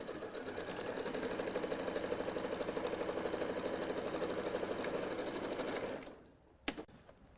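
A sewing machine stitches a reversible sun hat in one steady, loud mechanical run for about six seconds, then stops abruptly, leaving a short click and near silence.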